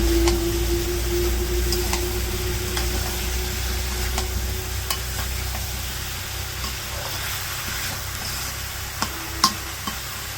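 Spice paste stir-fried with cut potato and eggplant in a village kitchen, a steady close crackling sizzle with scraping stirs throughout, a low hum underneath and a couple of sharper clinks near the end, no talking.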